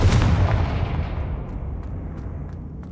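A Confringo fire blast spell from Hogwarts Legacy, heard as one loud booming burst at the start that rolls off into a long, fading rumble with no voices.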